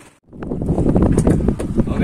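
Strong storm wind buffets a small fishing boat at sea, loud broadband roaring and gusting noise across the microphone after a brief lull, with some rattling.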